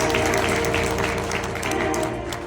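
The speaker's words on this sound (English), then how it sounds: "Clap your hands." A church congregation claps along in a loud, continuous wash of hands, with a sustained musical tone or organ-like drone underneath throughout.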